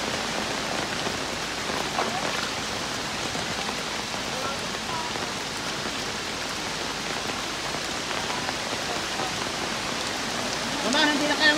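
Strong floodwater current during Typhoon Kristine rushes in a constant, dense roar mixed with heavy rain, loud and unbroken throughout with no pauses.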